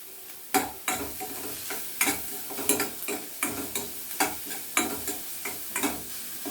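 Ginger and garlic sizzle in a hot pan as they are stirred, with a steady frying hiss broken by rhythmic scraping strokes of a spoon, close and fairly loud.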